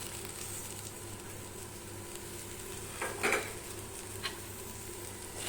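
Roasted coconut and pirandai stirred together in a pan for pirandai chutney: a quiet, steady sizzle with a couple of soft scraping strokes of the spoon, no voices.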